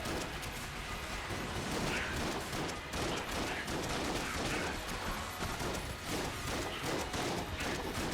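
Gunfire in the video game Enter the Gungeon, a dense, continuous clatter of rapid shots and mechanical clicks, loud and steady throughout with a screen crowded with bullets.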